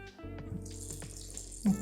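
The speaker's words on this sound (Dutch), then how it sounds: "De frambozencoulis gaan we aanleggen met water. met water tot 500 milliliter." Tap water runs into raspberry coulis for a vegan bavarois, a short steady close-up pour with a brief splash at the end, no talk.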